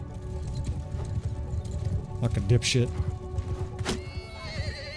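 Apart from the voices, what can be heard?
horses galloping and neighing in video game Mount & Blade II: Bannerlord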